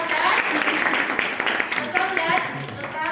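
A dense wash of audience applause at a school talk session welcomes a guest teacher, steady and moderately loud throughout, with voices audible underneath.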